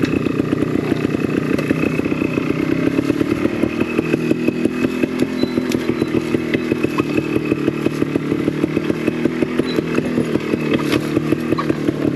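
A trials motorbike running on castor oil idles after a first-kick start, a close, loud two-stroke engine with a rapid, steady popping beat that varies a little in pitch throughout.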